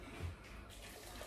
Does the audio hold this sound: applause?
no